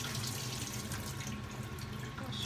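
Rice being washed under a running kitchen tap, a steady close splashing stream of water pouring without pause for the whole short stretch.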